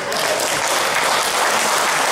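Loud, dense audience applause at a public event, a steady wash of many hands clapping that fills the whole short stretch without a break.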